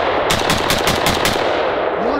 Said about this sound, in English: It's a gold AK.